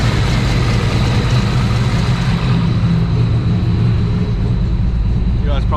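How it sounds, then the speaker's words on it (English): Car engine idling just after startup while warming up, a steady low rumbling drone close by that holds evenly throughout. "still idling in the startup idle"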